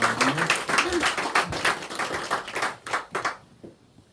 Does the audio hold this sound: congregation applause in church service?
yes